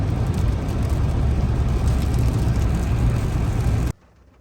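Heavy rain drums steadily on a car's roof and windshield while sitting inside the vehicle on a dark afternoon in Vancouver, a dense continuous roar with low rumble that cuts off abruptly near the end.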